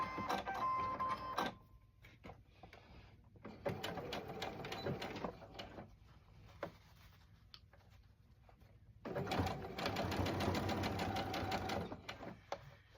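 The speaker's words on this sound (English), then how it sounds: "then we'll sew it together" A sewing machine stitches an 18-inch doll dress in two bursts of rapid, even needle chatter, with quiet pauses and small handling clicks in between, close and clear.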